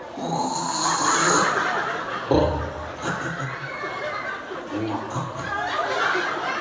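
A man snores with a rough, rattling rhythm, mixed with laughter and chuckling nearby.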